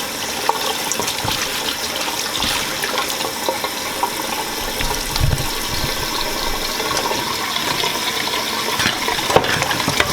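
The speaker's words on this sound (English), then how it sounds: "I'm gonna rinse it off really good" Cut-up meat rinsed under a running tap in a home kitchen, a steady hissing water stream with occasional splashes and handling sounds, close and continuous without speech.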